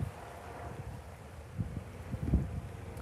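Breezy wind blowing outdoors on the waterfront at Mukilteo, Washington, at sunset: a steady low rumble of wind buffeting the microphone, with gusts swelling louder near the end, and no voices.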